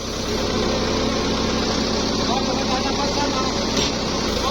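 A soil drilling machine's engine runs steadily and fairly loud as the rig is hoisted, a continuous idling drone under background voices and site noise.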